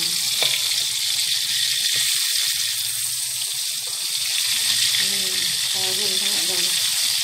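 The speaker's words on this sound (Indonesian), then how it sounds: "Ikan sembung kita goreng sampai garing." Dried sembung fish sizzles in a pan as it fries until crispy, making a continuous close, hissing crackle. A low murmur sits underneath.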